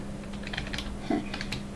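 Quiet computer keyboard typing, scattered light key clicks spread over a couple of seconds against a faint electrical hum, with a brief low murmur partway through.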